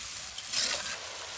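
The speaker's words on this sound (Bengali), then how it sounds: "মশলা কষানো হয়ে গেছে, এখন আলু দিয়ে দিলাম।" Onion, chili powder, turmeric, ginger, garlic, cumin and bay leaf stir-fried in a pan for potato dal, a close steady sizzle with a brief louder scrape of stirring.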